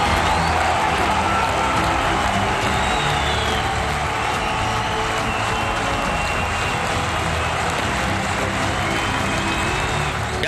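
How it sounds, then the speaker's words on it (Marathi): A large young crowd celebrating at Shivaji Park in Mumbai, a continuous loud wash of cheering, whoops and clapping at a distance, steady throughout with no single voice standing out. "धर्मेंद्र प्रधानांच्या राजीनाम्यानंतर मुंबईच्या शिवाजी पार्कमध्ये तरुणाईचा मोठा जल्लोष झाला।"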